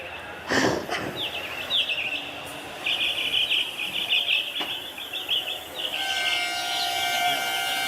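Birds chirping and calling outdoors at a staged Ramleela performance in Delhi, with bright repeated chirps and warbles through most of the stretch over a steady background hiss, plus a few sharp knocks.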